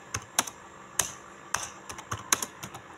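Computer keyboard being typed on while entering numbers into a cooperative accounting application, a handful of crisp close keystrokes in irregular bursts with short pauses between, no talk.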